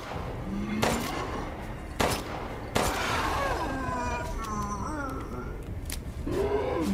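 Several sharp gunshot bangs ring out at irregular intervals amid a busy horror video game soundscape with growling and rumbling effects.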